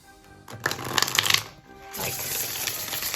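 A tarot deck being riffle-shuffled up close, a crisp fluttering burst followed by a longer, steady ruffle as the deck is shuffled again.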